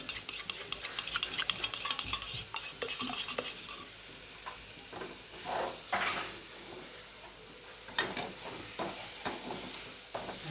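A spoon stirring curd with sugar in a bowl, producing close, irregular wet scraping and light clinks against the bowl over several seconds with no talk.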